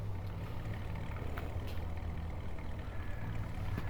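An old Bedford stock truck rumbles steadily up close, its low engine drone continuous throughout with faint clanks on top and no talking.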